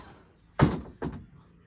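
A room door opens as someone comes in, giving two distinct thuds about half a second apart, fairly close and moderately loud against a quiet indoor background.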